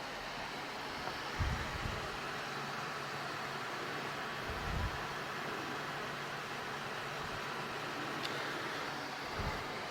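A Dyson tower fan on its highest setting gives a steady broadband whoosh, constant and fairly loud, with a few faint low thumps underneath.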